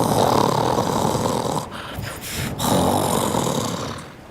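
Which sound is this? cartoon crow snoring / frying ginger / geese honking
cartoon crow snoring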